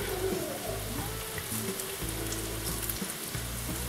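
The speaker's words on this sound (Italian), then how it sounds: "Questo qua lo friggiamo tutto" Sardines frying in hot oil in a pan, giving a steady, close crackling sizzle with dense spitting pops that carries on for the whole stretch with no talking.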